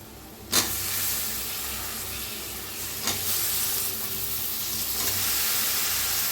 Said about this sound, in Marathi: आता ह्याच्यातच वांगी टाकूया आपण